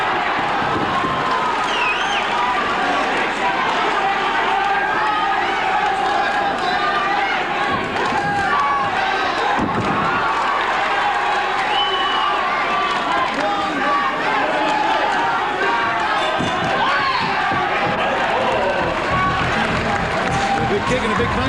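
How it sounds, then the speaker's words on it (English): Arena crowd at a kickboxing bout between Sam Soliman and Jarrod Curtis, a dense, steady roar of cheering and shouting that carries on loudly throughout, with a commentator talking over it. "Crowd's reacting."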